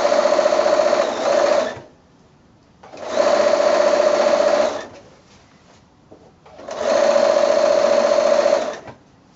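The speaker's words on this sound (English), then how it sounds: "I'm just using a regular quarter inch seam allowance here" Sewing machine stitching a quarter-inch seam on a quilt border, three loud, close bursts of about two seconds each separated by short pauses.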